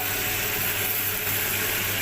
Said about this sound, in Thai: เสร็จแล้วเราก็คนให้แบบผักสุกพอดีนะ